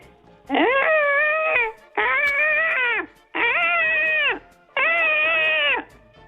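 A voice imitates a dead air alarm, making four loud, wailing, sustained tones, each about a second long and separated by short pauses.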